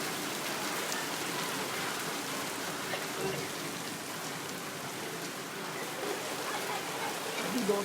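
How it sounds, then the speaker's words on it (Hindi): A continuous, close downpour of heavy monsoon rain in Lahore, its thick hiss and patter on hard surfaces staying even and loud from start to finish. "बारिश बहुत ही मुसलसल तेज़ होती जा रही है"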